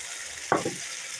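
Chopped tomato hits a pan of frying potatoes, giving one brief burst of sizzle that quickly fades back into a faint, steady frying hiss.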